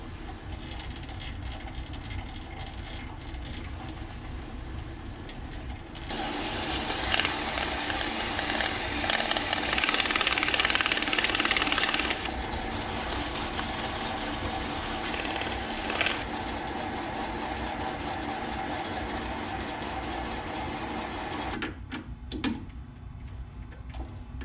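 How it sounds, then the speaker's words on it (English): A lathe spins a motorcycle bar-end mirror adapter while it is sanded with sandpaper and a gray Scotch-Brite pad, a steady machine whir with a louder rough scuffing stretch in the middle. "All I have to do is chuck it in like this so that I can clean up this surface, and I'll just do that with sandpaper and a gray Scotch-Brite."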